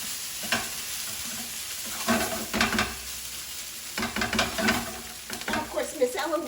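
Fried rice and tofu sizzle in a pan over high heat, a steady hiss broken by repeated scraping, stirring strokes at close range.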